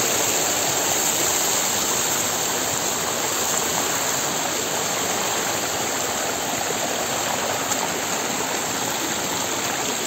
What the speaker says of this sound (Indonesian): Airnya hangat.